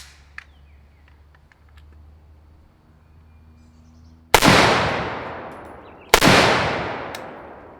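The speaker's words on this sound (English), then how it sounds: "M85 unsuppressed." Two sharp, loud gunshots from an unsuppressed M85 rifle, a few seconds apart, each followed by a long decaying outdoor echo, with faint birdsong in the quiet before them.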